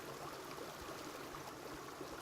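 Steady broadband rush of a flowing stream in the video game Reign of Kings, continuous and even with no distinct events, at moderate level and without talk.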